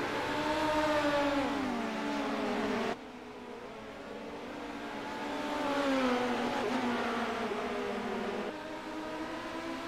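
A midget race car engine revs hard and accelerates, with rising and falling pitch as it passes, loud and close, with other engines droning in the background.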